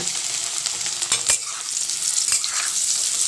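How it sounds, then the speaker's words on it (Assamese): Small potatoes frying in hot oil with dried red chilies and black cumin in a kadai, a dense close sizzle with crackles and a few sharp spatter pops, steady throughout without talking. "এতিয়া এইখিনি ধুনীয়াকৈ ভাজিব লাগিব"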